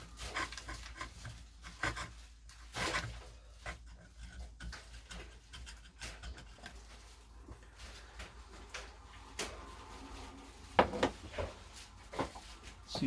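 A hand tool scrapes and rasps against a part during service and restoration of a Thorn 8940 / JVC HR7350 VCR, giving repeated close strokes with occasional sharper knocks and no speech.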